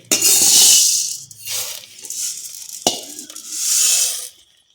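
A pressure cooker steams while rice payasam cooks for Vishu, giving three loud, close hissing bursts separated by quieter gaps, with a sharp click near the middle.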